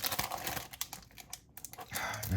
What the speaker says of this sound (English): like having to open package of Swiss cheese